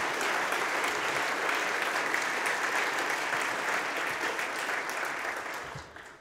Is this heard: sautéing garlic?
no